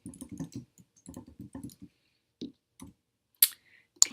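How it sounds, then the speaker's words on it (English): Computer keyboard being typed on while entering an email address, quick soft key clicks in short bursts with gaps, fairly close, ending with a couple of sharper clicks. "then you would type in your email address"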